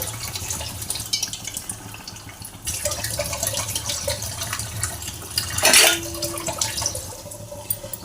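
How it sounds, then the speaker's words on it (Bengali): Water poured into a cooking pot of sautéed prawn and elephant foot yam curry, a running, splashing pour with a brief louder gush near the end, no voices. "পরিমাণ মতো জল দিয়ে দেবো।"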